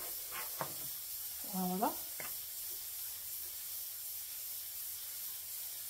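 Flatbread dough cooking in a hot frying pan over lowered heat gives a faint, steady sizzling hiss throughout, with a brief spoken word and a short voiced sound near the start.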